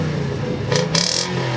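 A 2014 Toyota Tundra CrewCab pickup's 4.6 liter V8 revs up in two short, loud bursts over a steady idle rumble, with no voices.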